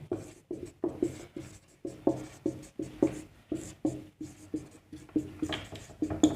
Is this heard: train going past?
no